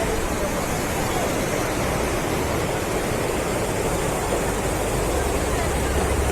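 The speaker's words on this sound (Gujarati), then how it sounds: "આમાં ઘણું બધું છે, ઉપરથી પાણી આવે છે. કહેવાય છે આ નીર વોટરફોલ" Neer waterfall in Rishikesh roars as a dense, steady rush of falling water, loud and close, filling the whole stretch without pause.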